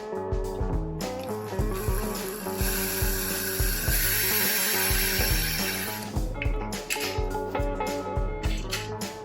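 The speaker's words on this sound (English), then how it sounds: "I'm drilling the holes for the tuners." A drill bores tuner holes in the headstock of a Samick electric guitar, with a whining motor that starts and stops in bursts alongside ratcheting mechanical clicks, close by.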